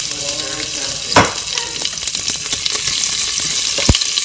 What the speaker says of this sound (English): Just stirring the pot.